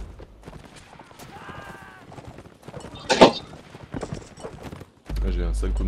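Horses clip-clopping at a gallop in a Linebattle video game battle, a steady hoof rhythm under a talking voice, with a sharp gunshot-like crack midway and a loud burst near the end.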